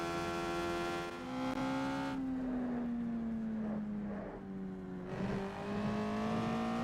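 A Palatov D4 race car in a racing video game holds a steady high engine drone with shifting pitch, rising and dipping as it revs through corners, loud and continuous without talk.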